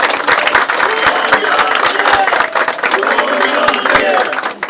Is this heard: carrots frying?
no